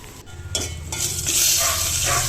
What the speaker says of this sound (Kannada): ಮೆಣಸಿನಕಾಯಿ ಕರಿಬೇವು ಇದನ್ನು ಫ್ರೈ ಮಾಡ್ಕೊಳ್ಳೋಣ